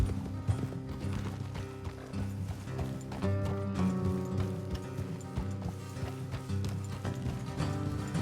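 Steady clip-clop of horse hooves moving at a walking pace in Red Dead Redemption 2, heard over a continuous backdrop of orchestral game music.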